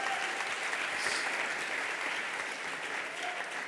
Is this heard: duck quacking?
no